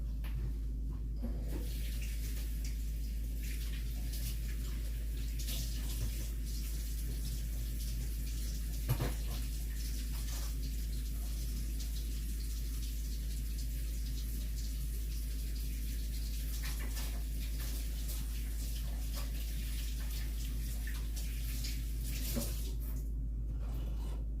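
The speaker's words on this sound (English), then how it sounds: "Okay, I'm gonna wash my hands up." Running tap water steadily pours over hands being washed in a kitchen sink, a continuous close splashing hiss that lasts the whole time with small shifts in the flow.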